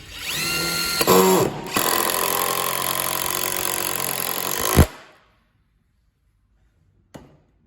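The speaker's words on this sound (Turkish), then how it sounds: "Şuradan bir vida daha atmak istiyorum." A Panasonic EY75A2 professional cordless impact driver drives a screw in one sustained, loud burst of about four seconds, its motor whine and hammering impacts ending abruptly, followed by silence and a single faint click.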